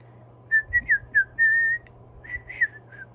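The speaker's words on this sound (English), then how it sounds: "I can do at least 3 kinds of whistling" A person whistles a short run of clear, bright notes, several quick chirps followed by a longer held tone, then a few more.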